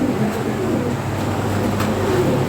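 Toy Lahori pigeons coo softly in a low, steady murmur over constant background noise, with a faint distant rumble that may be a train.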